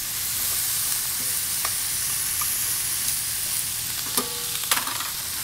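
Garlic, onions and celery sautéing in a pan for a braise, a steady close sizzle with a few light utensil clinks toward the end and no talking.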